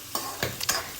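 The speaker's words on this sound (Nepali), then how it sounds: "लसुन तेलमा फुराउँदैछु।" Garlic frying in hot oil while being stirred: three or four quick scraping stirs over a soft, steady sizzle, close and fairly loud.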